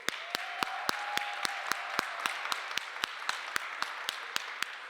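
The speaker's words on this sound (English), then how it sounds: "Another round of applause for the volunteers." An audience at a Black Entrepreneurs Day event at the Capitol applauds the volunteers, a steady wash of clapping with regular sharp, close claps standing out.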